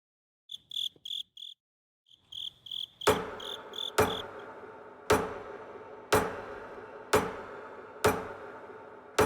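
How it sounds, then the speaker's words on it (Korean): Hammer blows ring out at a steady pace, about one per second, each a sharp loud strike with a short decay, after a few soft chirping insect-like ticks at the start; no voices. "망치질 소리에 저는 정신이 들었어요"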